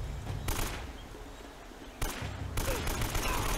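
Shotgun-wielding enemies and gunfire in the action game Uncharted: Drake's Fortune Remastered, bursts of loud shots arriving in two clusters separated by a quieter gap, with dense combat noise throughout.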